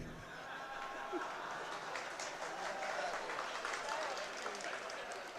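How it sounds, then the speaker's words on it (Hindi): Applause from an audience at a spiritual discourse by a Jain acharya, a dense sustained round of clapping filling the room, fairly loud and steady throughout. "हाँ देखो तालियां बज गई"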